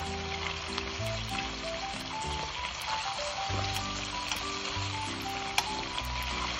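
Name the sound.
pork spare ribs frying in a pan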